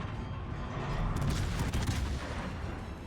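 Warship guns booming in World of Warships during an engagement with the Prince Adalbert: a dense, continuous rumble of heavy gunfire and blasts, loud and sustained throughout with a sharper burst in the middle.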